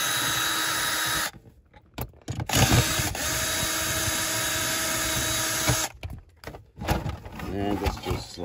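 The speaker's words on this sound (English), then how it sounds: "Get your 7 ratchet head" A ratchet with a 7 socket works loose the dashboard bolts on a Land Rover Discovery 1, making close mechanical clicking and rattling in several bursts, separated by short pauses and handling noise.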